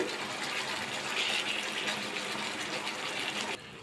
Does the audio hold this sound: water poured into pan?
yes